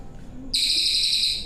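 A murai batu, or white-rumped shama, bursts into a loud, sustained high-pitched song after a brief quiet start, the shrill notes held steadily close by.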